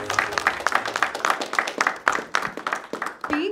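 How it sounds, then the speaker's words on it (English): A comedy club audience in Manchester claps for a comedian, a lively burst of many hands with sharp, irregular slaps that carry on steadily before easing off, with a brief voice at the very end. "Let's give a round of applause for Pamela Ross."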